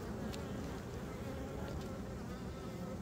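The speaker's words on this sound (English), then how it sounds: "Watch out, bees." Bees buzz in a dense, continuous swarm around an opened beehive, steady and close throughout, with no talking.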